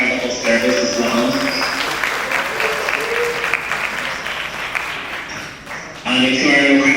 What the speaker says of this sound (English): can we also give a huge round of applause to Gatsby on the Ocean for their incredible service as well